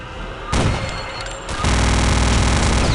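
Rapid automatic gunfire rattles in Return to Castle Wolfenstein, close and loud, with short bursts that give way to a dense, continuous barrage of overlapping shots.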